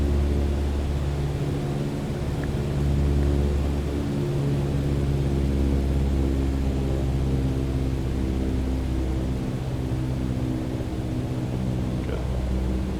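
A Cessna light aircraft engine drones steadily in a flight simulator, a loud continuous hum and rumble with no talk over it, heard while the plane turns onto right base for runway 11.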